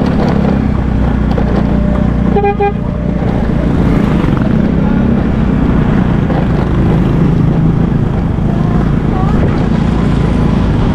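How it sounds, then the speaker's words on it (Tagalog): Strong wind roars steadily against the microphone outdoors in the Philippines, a constant heavy rumble throughout, with faint indistinct voices buried underneath. "Napakalakas ang hangin."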